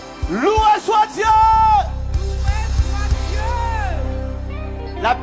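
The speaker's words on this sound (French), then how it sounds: "Jusqu'à là-bas derrière, est-ce que tu peux crier loué soit Dieu?" A church congregation at an evening worship event shouts praise to God, with loud, close whoops and yells over a steady bass pulse and occasional thumps.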